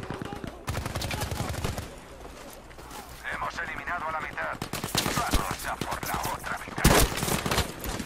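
Rapid bursts of automatic gunfire from Battlefield V crackle in quick repeated volleys, with a voice talking at times over the shooting.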